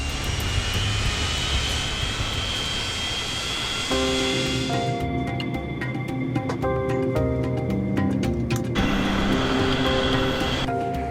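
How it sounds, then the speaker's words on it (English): Boeing 737 airliner engines drone steadily while taxiing toward the runway, a loud broad roar with a high whine, joined midway by layered tonal hums and scattered clicks from the cabin. "It takes just 4 minutes for the plane to reach the foot of the runway."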